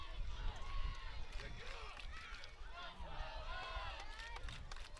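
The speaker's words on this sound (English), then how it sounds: "Crowd getting involved." Home crowd noise at a high school football game between the Elks and the St. Johns Redskins fills the stands with steady broad roar and scattered shouts, lasting throughout at moderate level, with voices mixed in.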